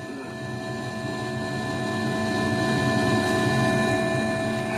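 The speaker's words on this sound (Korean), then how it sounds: "비행기 엔진 소리 한번 들어보자고요." Steady, droning cabin noise from an airplane engine during a children's flight experience, a continuous broad roar with sustained tonal hums that grows slightly louder over the clip.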